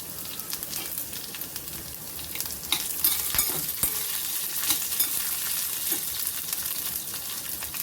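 Potatoes fry with peanuts and chili in a pan, giving a close, continuous sizzle broken by a few sharp clinks and scrapes of stirring.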